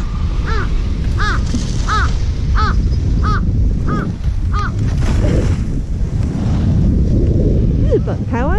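A crow in Japan caws in a steady run of about eight short calls at moderate distance, over a constant rushing background like wind or surf, with some talking mixed in.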